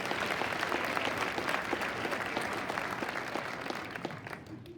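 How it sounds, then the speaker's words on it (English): A crowd at the Ohio Fairs Queen Contest 2022 gives the contest judges a full round of applause, dense clapping that stays lively for several seconds before tapering off. "Give all of our judges a big round of applause"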